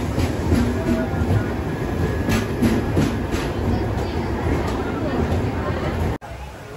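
Godavari Express, hauled by a diesel locomotive, at Visakhapatnam station: a steady rumble of rolling coaches with rhythmic wheel clatter and a broad hiss, heard close, with voices speaking over it throughout.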